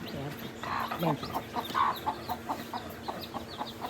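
Hens cluck in quick repeated bursts nearby while a rooster calls among them, with faint background chatter.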